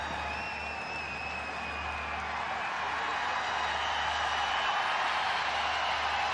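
A stadium crowd at a cricket match in Chennai cheers and applauds for a former Indian captain walking out, a broad, steady roar of distant voices that swells slightly and holds for several seconds with no talk over it.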